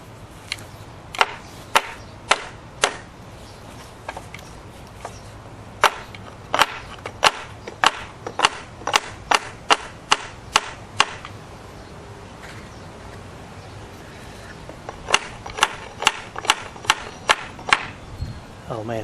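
Sharp wooden knocks as glued joints of an antique wooden chair are hammered apart, a series of loud, close strikes coming in irregular bursts with short pauses between them.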